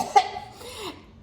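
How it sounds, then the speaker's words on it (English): One forceful human cough bursts out sharply near the start, followed by a short raspy exhale and a faint trailing breath, close and alone. "Now do a really, really big cough."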